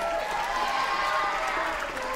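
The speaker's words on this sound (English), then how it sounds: "Everybody in the tech crew, round of applause." An audience at a school Writers Week event gives a round of applause for the tech crew, a soft, steady wash of clapping without distinct individual claps, moderately distant.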